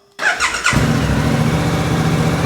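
Suzuki V-Strom 800 DE motorcycle from 2023 starting up: a short whirring crank, then the engine catches into a steady, close, rumbling idle.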